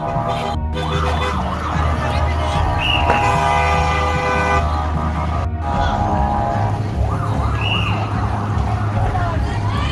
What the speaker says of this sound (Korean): 저 소방차가 오고 있습니다.